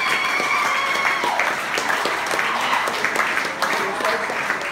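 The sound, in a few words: applause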